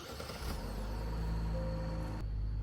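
A 2025 Genesis GV70 SUV engine runs close by as a steady low hum with a brief tonal whine, then drops off sharply near the end.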